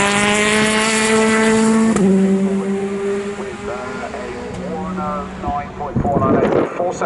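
A Lola Judd endurance race car at Donington Park screams past at high revs with a sustained, pitch-shifting engine wail, fading as it goes and overlapping other cars, while a commentator talks over it.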